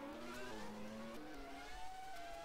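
Race cars head out onto the track in the Automobilista racing game, engines whining and stepping up through the gears at a moderate distance, steady and alone with no talk.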